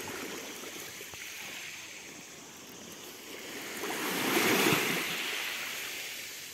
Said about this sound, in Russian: И все-таки Яшмовый пляж самый классный пляж. Энергетика, водичка